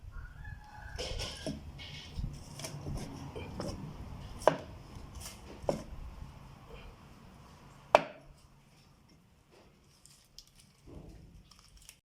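Knife chopping fish on a board, a few sharp distinct chops spaced apart over low background noise and clatter, fairly close.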